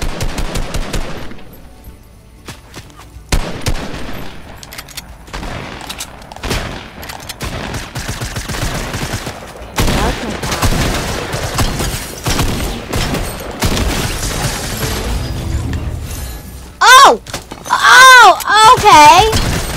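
Rapid bursts of automatic gunfire in Fortnite crackle loud and close, with repeated volleys and single shots spread across the stretch, mixed with game effects and a short voice near the end.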